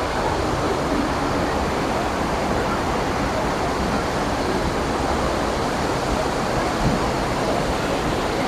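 A waterfall at Bhimkund roars in a steady, dense wash of rushing water that holds constant and loud from start to finish, with no voices.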